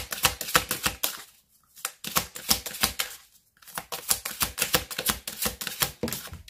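Tarot cards shuffled by hand in rapid riffling bursts, two long runs of crisp close flutter separated by brief pauses.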